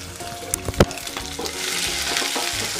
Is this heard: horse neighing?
no